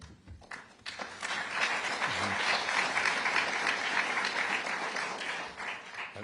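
An audience breaks into sustained applause during a political speech, building quickly and holding steady for several seconds before tapering slightly.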